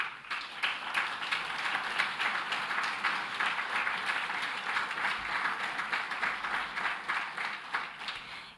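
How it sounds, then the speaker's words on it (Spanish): Steady audience applause at a book launch on Bolivia's 2019 constitutional crisis, dense even clapping from a crowd filling the room at a constant level from start to finish. "un aplauso para usted."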